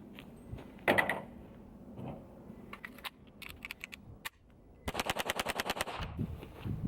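Rapid gunfire from a Hi-Point JCP .40 pistol during a high-round-count endurance test: a single shot, then scattered shots, then a fast, evenly spaced string of about a dozen sharp, loud reports.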